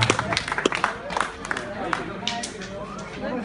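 Scattered clapping from a small crowd after a Maasai stick fighting display, with chatter and shouts mixed in; the claps are uneven and close by, fading slightly toward the end.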